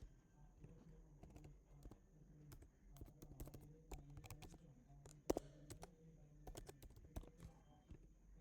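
Password being typed on a computer keyboard at login: a steady run of quiet, irregular key clicks with a few firmer taps, close by over a low room hum, with no talking.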